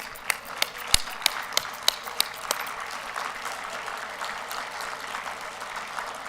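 An audience at a student leadership awards event applauds college students in a steady clapping wash, while sharp, evenly spaced loud claps stand out near the start before the applause continues on its own.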